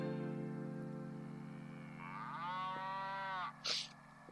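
A cow moos into a drive-thru speaker in a horror video game, giving one long, drawn-out low moo over a steady electronic hum, followed by a short bright blip.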